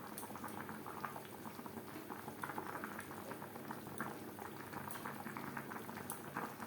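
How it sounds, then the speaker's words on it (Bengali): Rohu fish curry with potatoes simmering in a thin gravy, giving a faint, continuous bubbling and popping, low in level and heard alone without speech. "গ্রেভির সাথে মাছ বেশ ভালো করে সুসিদ্ধ হয়ে গেছে।"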